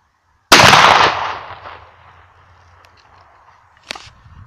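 One loud 12-gauge shotgun shot fired from the upper barrel bursts abruptly and rings off into a lingering echo, followed a few seconds later by a brief, quieter clack.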